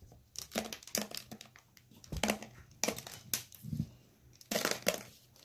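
Small beads drop into a jar of dry orange-dyed rice, making a series of sharp, close crackling rattles and crunches in separate bursts, fairly quiet overall.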